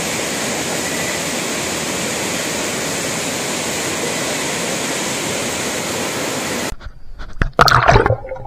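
Mayang Falls waterfall, heard as a loud, continuous rushing roar of falling water that stops abruptly near the end, followed by a few brief knocks and splashes close by.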